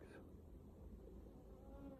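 A steady, low insect buzz hums continuously, like many honeybees droning close by in an open beehive box, with no voices over it.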